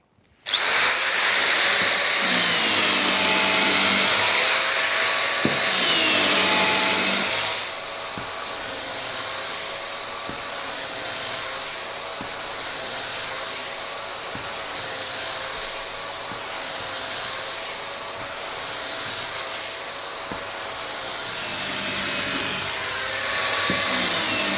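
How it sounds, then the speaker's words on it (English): An Exact 14 plunge saw cuts through MDF with a loud, steady high-pitched motor whine and blade buzz. It is harsher for the first few seconds, then settles into a lower, even drone that keeps going without a break. "One of the most popular tasks for the Exact 14 is cutting MDF."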